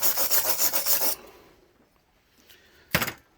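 Rust is scrubbed off a Mopar distributor in a second of fast, close, rhythmic abrasive rubbing, followed by near quiet and one short scrape near the end.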